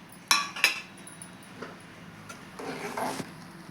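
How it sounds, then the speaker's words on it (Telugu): A metal lid lifted off a pot of cooking toor dal, two sharp clinks near the start followed by softer clatter and faint kitchen movement; close and quiet. "మూత అయితే తీస్తున్నాను నేను."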